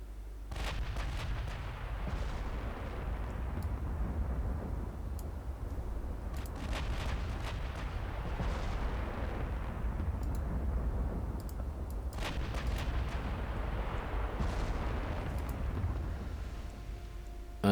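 Naval gunfire in the warship game Ultimate Admiral Dreadnoughts, including big 18-inch battleship guns: a continuous low rumble of distant booms with several sharper blasts standing out across the stretch.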